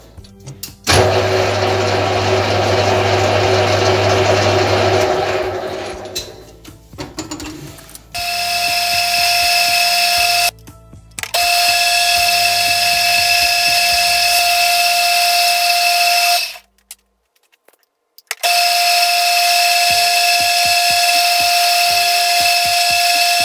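A milling cutter spins on a column drill during a threading job, producing a loud, sustained mechanical whine and motor hum that starts, stops and restarts several times, with no voices.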